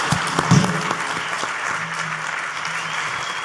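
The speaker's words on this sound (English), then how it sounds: "Please join me in giving a round of applause to our distinguished panelists" An audience at a public power conference applauds its panelists, a steady wash of clapping at an even level throughout, with a few louder individual claps near the start.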